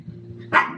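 A dog gives a single short, loud bark near the end, close by, after a brief stretch of quiet low room hum.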